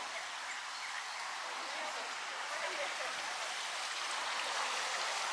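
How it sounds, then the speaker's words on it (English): A small garden waterfall splashes in a steady, broad, hissing rush of falling water, close and constant with no breaks, and no one talks. "Cool little waterfall over here."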